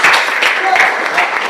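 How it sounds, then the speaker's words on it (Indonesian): A junior high school class claps together in a classroom, giving a short, loud burst of steady, close applause from the students. "Tepuk tangan untuk kita semua"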